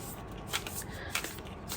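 A deck of art-illustrated playing cards is shuffled by hand, giving a couple of quick riffling bursts with soft papery flutter between them, close and clear with no talking.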